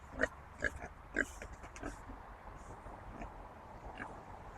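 Pigs on a farm give three short, close grunting oinks in quick succession, then fainter snuffles and grunts continue over outdoor rumble.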